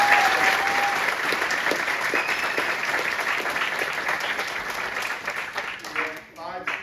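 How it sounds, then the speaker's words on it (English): A school auditorium audience gives sustained, dense applause for a high school band at a spring concert, loud and steady before thinning out near the end, with a few voices mixed in. "So please give them all a big round of applause."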